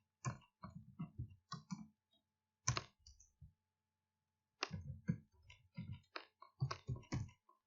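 Rapid clicking keystrokes on a computer keyboard while text is typed into AutoCAD Architecture 2017, arriving in short close bursts separated by brief silent pauses, with no talking.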